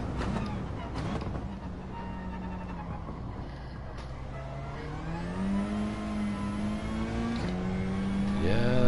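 A rally car in Gran Turismo 7 drives with a droning engine note that climbs and falls through gear changes and braking, playing at low level while a person talks over it.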